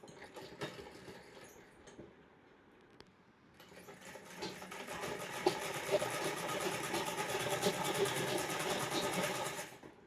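A sewing machine stitches a frock seam, back-stitching to secure it. Light intermittent clicks come first, then a brief pause, then a rapid, steady mechanical whirr of stitching runs close by for several seconds before cutting off.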